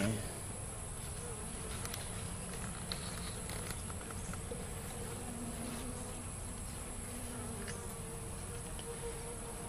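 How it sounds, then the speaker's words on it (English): A honeybee swarm buzzes at a top bar hive outdoors in a continuous, dense drone that stays steady and fairly quiet throughout, with no voices. "But as you can see, it's a nice size swarm."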